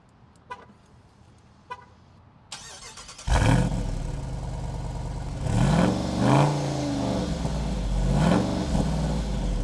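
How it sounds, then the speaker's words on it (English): A Jeep Wrangler 392's V8 fires up after a few faint clicks, then settles into a loud, deep rumble through a quad exhaust, with several sharp revs rising and falling. "this engine sounds amazing, as it has a quad exhaust in the rear and sounds fantastic"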